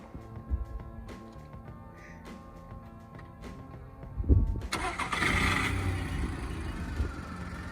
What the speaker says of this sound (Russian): Чтобы завести машину, просто нажимаем большую оранжевую кнопку до второго звукового сигнала.